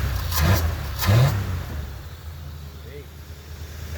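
A Flathead Ford engine with a new exhaust, missing on one cylinder, gives two short revving bursts and then drops to a lower, steady running note nearby.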